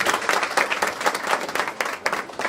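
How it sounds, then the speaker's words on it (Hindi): A crowd at a business meeting in Bolpur, West Bengal claps enthusiastically, a dense burst of applause that stays loud and steady throughout. "जबरदस्त तालियां सर के लिए।"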